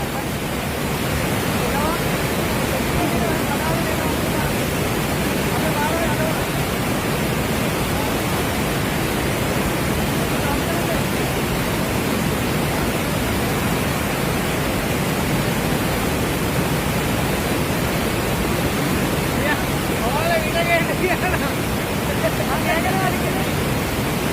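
A river swollen by upstream rain rushes in a loud, steady, unbroken roar of water, with faint voices occasionally audible beneath it.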